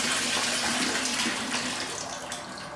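Cold tap water and just-boiled water from a kettle pour steadily into a wine-kit fermenting vessel, a continuous close splashing rush that eases slightly toward the end, with no talking.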